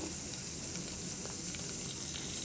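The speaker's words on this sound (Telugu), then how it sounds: "పచ్చి కారం వేసి వేపుకోవాలి" Green chili frying in oil in a pan gives a steady, even sizzle of fine crackling that carries on without a break, close by and moderately loud, with no talking.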